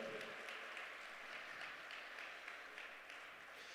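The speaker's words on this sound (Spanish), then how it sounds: "Dale un aplauso a Jesucristo" A church congregation gives applause during a sermon, a faint, steady wash of many hands clapping at a distance with no break.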